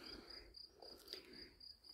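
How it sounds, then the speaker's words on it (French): Crickets chirp faintly in a garden, a soft steady trill that carries on continuously in the background with no voices. "Et puis on entend les grillons."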